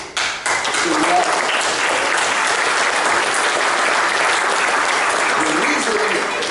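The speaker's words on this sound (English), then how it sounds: "The reason why I applaud that" A church congregation applauding, steady dense clapping from a large crowd filling the room for several seconds, loud and continuous.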